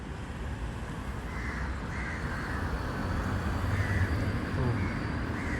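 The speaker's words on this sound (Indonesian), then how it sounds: "Banyak sekali burung gagak di sini." Many crows caw together around a roosting spot in Port Louis, Mauritius, with repeated harsh calls rising at moderate distance over steady traffic and street hum.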